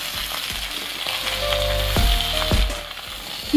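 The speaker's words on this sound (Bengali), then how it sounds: "খিচুড়ি রান্না করতে গেলে সবজিগুলোকে আপনারা ভেজে নেবেন" Vegetables such as beans, pumpkin and flat beans fry in hot oil for a vegetarian khichuri, giving a steady close sizzle with a few stirring clatters and no talk.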